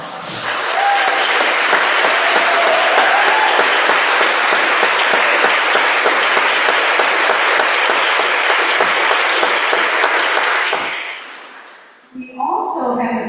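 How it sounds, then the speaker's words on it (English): A conference audience applauds steadily for the teachers standing to be recognised, a dense, loud wash of clapping lasting about eleven seconds before fading into quiet and a brief voice. "give you a round of applause"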